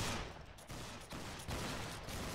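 Ragged musket volleys from a line battle in Battlegrounds 3, with several dense bursts of overlapping shots across a couple of seconds, loud and continuous without any clear voices.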